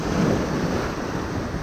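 Pacific Ocean surf rolling onto a beach, a steady continuous wash of breaking waves with some wind rumble on the microphone, no voices.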